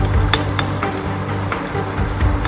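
Potato, capsicum and big chilli pakodas fry in hot oil with a steady, close sizzle, broken by a few light clinks of a utensil.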